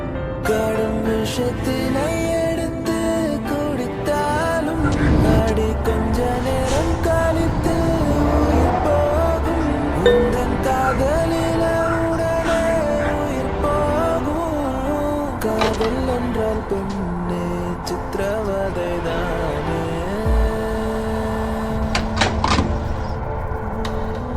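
A truck engine in the Truckers of Europe 3 mobile driving game hums and shifts pitch as the rig rolls into a gas station, a steady synthetic drone with rising and falling gear tones and no talk.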